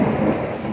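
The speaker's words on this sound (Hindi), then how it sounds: "बादल गरज रहे हैं, आप सुन सक रहे होंगे।" Thunder rumbling from storm clouds as the weather turns and wind shakes nearby trees, a short, deep, loud roll heard up close without any talking.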